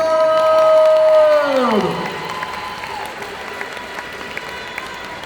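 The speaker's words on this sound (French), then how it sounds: "faire un tonnerre d'applaudissements pour Shino-san" An audience at a cosplay contest breaks into applause and cheering after a drawn-out voice trails downward, the clapping continuing as a dense, steady patter.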